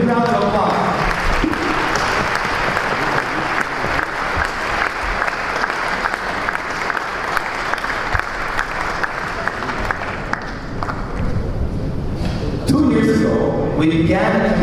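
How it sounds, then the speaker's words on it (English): An audience at a Chabad of Rechavia celebration applauds a building fund donor couple, a steady round of clapping that fills the room for the whole stretch, with voices and crowd murmur rising near the end. "Weber a big round of applause."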